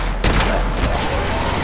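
A dense, loud rattle of rapid gunfire in the Witchfire shooter game, with sharp cracks overlapping into a continuous barrage that runs the full length.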